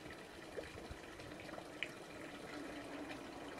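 A tap of drinking water on a pilgrimage trail runs in a low, steady trickle with a few faint splashes and drips, heard quietly against soft outdoor background noise, no one talking.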